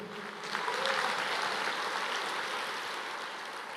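A church congregation applauds during a worship service: broad, steady clapping that swells after about half a second and holds, fairly even, with no voices over it.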